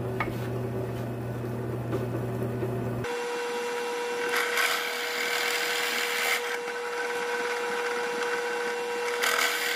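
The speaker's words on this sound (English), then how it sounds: "Now I've got the 3/8 drill bit on the drill press, and I'm going to go all the way through the headstock." A drill press with a 3/8 bit bores through the wooden headstock of a three-string cigar box guitar. A motor hum cuts to a steady whining, grinding drill sound that holds with a few louder surges.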